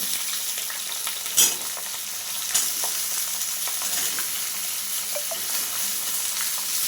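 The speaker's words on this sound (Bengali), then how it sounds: "আলুগুলো ভাজতে দিয়ে দিলাম" Potatoes, pumpkin and other vegetables fry in oil in a pan with a steady, bright sizzle throughout, broken by a couple of sharp stirring clacks.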